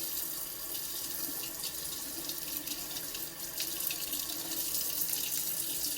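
A faucet sprays water around a kitchen sink in a steady, close rush that shifts slightly as the stream moves, continuous for several seconds with no voices.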